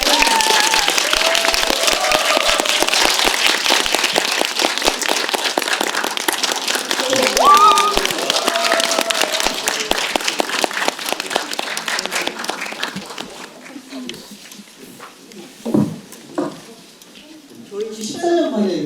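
An audience at a Korean film screening Q&A applauds to welcome the guests, with strong steady clapping and voices over it, fading after about thirteen seconds into scattered claps and talk.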